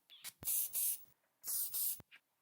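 A perfume bottle sprayed in two quick pairs of short, sharp hissing bursts, close and clear against near silence, with faint clicks of the pump between.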